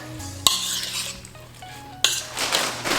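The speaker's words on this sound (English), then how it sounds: "And we're gonna hit it with a little salt and pepper. And give it a good stir." Food seasoned with salt and pepper stirred in a pan: two loud metallic clanks of a utensil against the pan, each followed by a scraping, sizzling stir, close up with quieter clinks between.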